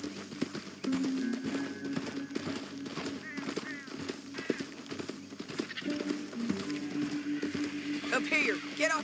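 Horse hooves clip-clopping at speed in Red Dead Redemption 2, a steady run of beats with a brief whinny, mixed under game dialogue, music and distant gunfire.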